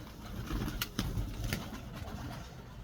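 Pigeons calling, soft low coos repeating amid a busy bird background, with a few sharper bird chirps standing out, moderately close and without voices.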